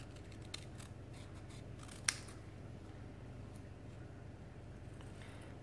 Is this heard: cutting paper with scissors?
yes